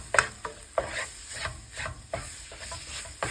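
Ground chicken sizzles in a pan as it is broken up and stirred, a soft frying hiss punctuated by repeated scraping strokes of the utensil roughly every half second, close and clear.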